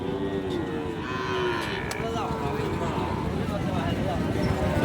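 Cattle at a livestock market in a noisy crowd, with a low, drawn-out moo rising briefly over a dense wash of voices and background bustle throughout.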